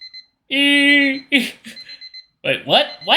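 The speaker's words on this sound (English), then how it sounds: "I quickly thwacked the snooze button to cease my alarm clock's horrid noises" A short electronic alarm clock ring, a steady buzzing tone lasting under a second with a couple of brief chirps around it, followed by a voice speaking in surprise.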